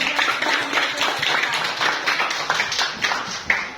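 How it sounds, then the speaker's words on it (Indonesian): Children in a school classroom clap for a classmate group, a close, lively patter of hand claps with irregular rhythm that holds steady throughout. "kita beri tepuk tangan untuk kelompok Claire"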